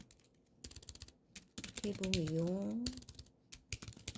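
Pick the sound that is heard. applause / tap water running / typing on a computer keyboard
typing on a computer keyboard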